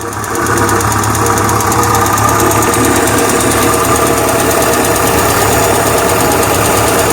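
An old carbureted engine idles steadily after running for about twelve minutes without flooding, giving a continuous, even mechanical hum with a faint knocking rhythm, close by and constant throughout with no talking.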